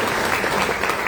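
Steady, dense applause from a church wedding congregation fills the whole moment, even and sustained with no voices on top.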